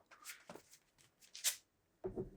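Weiss Schwarz trading cards are shuffled by hand as the waiting-room pile becomes the deck again, giving faint, brief papery riffling bursts separated by short pauses, with no voice.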